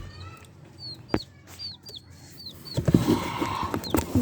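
Chicks and a hen cheep and cluck in a small group close by, a string of short high peeps coming one after another, with brief rustling and scuffling sounds toward the end.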